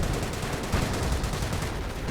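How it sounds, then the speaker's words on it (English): Calliope rocket artillery firing madly across a battlefield in a video game, a dense, continuous barrage of loud overlapping blasts and crackling fire with no break. "More Calliope firing madly into everything"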